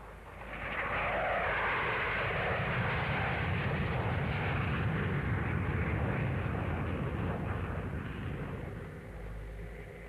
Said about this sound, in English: The aircraft's reliability and the pilot's skill combined to give a flawless demonstration of formation aerobatics.